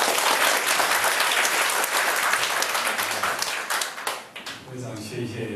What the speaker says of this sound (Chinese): 来，大家热烈掌声！